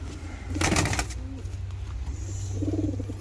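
Ornamental birds in a breeder's aviary give soft, low cooing calls close by, with a brief burst of fluttering or scuffling noise and a faint background hum.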